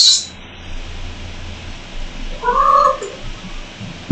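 Indoor cat hunting a mouse lets out a drawn-out yowl midway, loud and close, over a low steady background hum, with a sharp brief noise at the very end.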